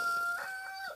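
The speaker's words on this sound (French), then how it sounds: "Derrière, nous avons trois poules de Barbezieux." A short, faint Barbezieux hen vocalization, a drawn-out tonal cluck heard from a distance, with no other sounds.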